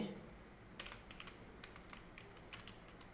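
Quick, light keystrokes on a computer keyboard in short uneven bursts, close and fairly quiet, with no voice over them.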